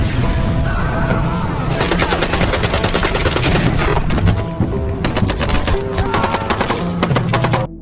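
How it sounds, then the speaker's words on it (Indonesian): A fierce film shootout between former special forces soldiers and cartel gang members, with loud, dense bursts of automatic gunfire and single shots crackling almost nonstop, booming and close. "Sehingga baku tembak sengit, tidak dapat lagi dihindari."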